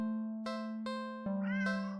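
A standard black cat meowing close by, a steady tonal cry that rises and wavers toward the end, loud and alone with no talking.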